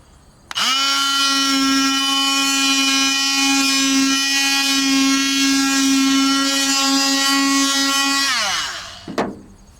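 A power tool with 400 grit sandpaper works rust on a neglected Japanese kei truck. It gives a loud, steady, high-pitched whine for about eight seconds, then spins down, with no talk over it.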